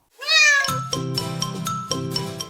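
A cat gives one clear, rising meow, close and loud, followed by a series of rhythmic plucked or struck musical notes.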